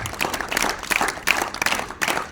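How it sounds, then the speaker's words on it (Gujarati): A school audience at a Matru-Pitru Pujan Divas event claps in uneven bursts, a fairly close, lively applause that swells and dips over a couple of seconds. "તાળી તો પાડો કંજૂસ ન કરતા"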